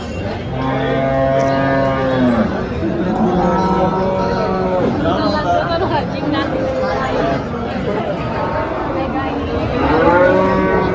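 Cows moo repeatedly, several loud drawn-out calls overlapping, over a busy background of crowd chatter at a farmers' cow market in Dhule, India.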